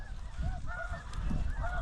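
Snow geese and blue-phase geese honk repeatedly in a loose, overlapping chorus during a hunt, with several birds calling at once over steady background noise, fairly close and moderately loud.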